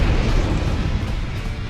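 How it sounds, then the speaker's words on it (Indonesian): A bomb blast in an action film about an abandoned special forces unit: a loud, deep, rumbling explosion that roars steadily and slowly fades over about two seconds, with no voices. "Bom dijatuhkan, meledak."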